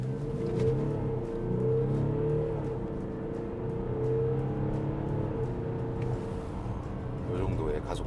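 BMW X6 30d diesel coupe SUV accelerating at full throttle in sport mode, a steady engine drone rising in pitch under someone talking throughout.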